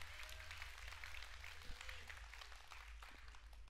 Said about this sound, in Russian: Давайте сейчас громко похлопаем, чтобы восславить Бога.